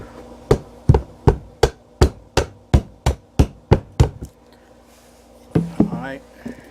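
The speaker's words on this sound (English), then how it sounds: "Really should get a smaller hammer." A hammer knocks nails out of a Star Wars cabinet: about a dozen sharp, evenly spaced wooden blows, loud and close, then a pause before a short burst of scraping and clatter.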